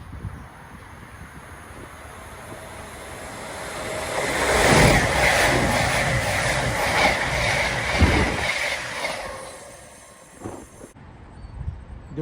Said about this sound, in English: on a York Reading cross-country Voyager with new livery.